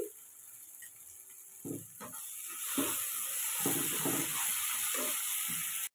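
Pumpkin and fried potato sautéing with prawns in a pan for a Bengali curry, a steady close sizzle with bursts of scraping stirs that grows louder and fuller midway, running continuously with no voices.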